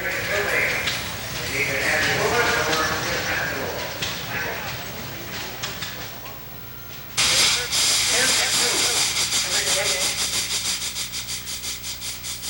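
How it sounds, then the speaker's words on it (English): A loud, steady hiss of escaping steam from a one-third scale 1915 steam tractor bursts in halfway through, broadband and sustained with a faint chuffing pulse; before it, machinery rumbles under mixed outdoor noise at a farm show. "This is Charlie Olson's creation, a 1/3 scale 1915 K steam tractor."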